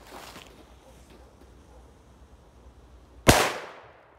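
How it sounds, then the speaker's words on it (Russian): A single Maxsem P2000 firecracker explodes outdoors with a sharp, loud bang after a quiet wait and a short fading echo. Faint rustling comes before the blast. "был реально самый мощный взрыв"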